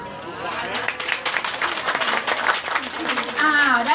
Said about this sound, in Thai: ขอเสียงปรบมือนางอีกครั้งหนึ่งค่ะ